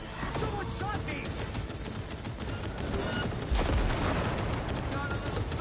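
Gunfire in Cyberpunk 2077, a sustained barrage of loud overlapping shots and automatic bursts in close combat, continuous throughout with no pause.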